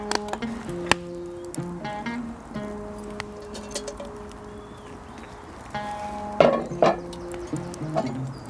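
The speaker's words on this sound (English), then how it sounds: "I'm just chopping everything roughly" Intermittent knife taps and clinks on a board, irregular and close, with quiet pauses and a louder burst of cutting near the end.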